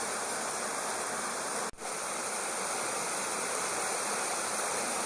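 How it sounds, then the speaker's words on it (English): A small waterfall at Slaley/Healey Mill pours into a deep pool, giving a loud, steady, close rushing roar that fills the whole stretch, broken only by a momentary dropout. "For a little waterfall, it makes a lot of noise."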